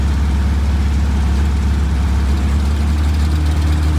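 A 1962 Austin-Healey Sprite engine, revived after sitting in a barn, runs at a loud, close, steady idle with a deep low rumble and no talk over it.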